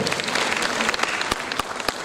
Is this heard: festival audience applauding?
yes